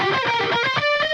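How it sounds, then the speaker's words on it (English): A distorted electric guitar solo played dry with no delay, a quick run of bright sustained notes sliding between pitches, loud and close. "here's the solo with no delay on there"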